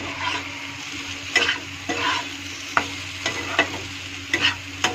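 Potatoes and fried soybean sizzle in a pan, a steady frying hiss broken by several sharp scrapes and stirring strokes, close up with no voices.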